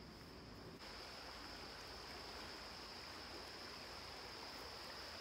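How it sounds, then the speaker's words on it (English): A river flows loudly and steadily nearby as a dense, unbroken rush of water that fills the whole stretch with no voices. "You're just gonna have to talk really loud because the water's kind of noisy today."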